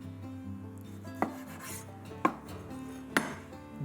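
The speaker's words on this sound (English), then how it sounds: "So you just want to cut that into probably 1 centimetre slices" A knife cuts rested lamb backstrap into 1 cm slices, three distinct sharp chops against a board spaced about a second apart, close and fairly quiet over a low steady hum.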